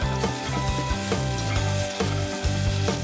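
Potatoes fry in a kazan with a loud, dense sizzle and crackle close by, interrupted by repeated stirring knocks and scrapes at a rough, uneven rhythm.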